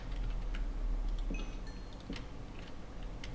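Steady ticking from a map maker in a video game, set to three ticks, with light clock-like clicks repeating at an even pace, quiet and alone over a low hum.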